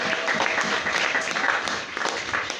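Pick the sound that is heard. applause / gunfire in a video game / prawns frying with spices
applause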